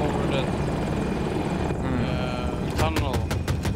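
A KA-520 Super Hokum attack helicopter in Battlefield 2042 produces a loud continuous rotor drone, joined near the end by a rapid burst of sharp gunfire-like cracks, with speech over it.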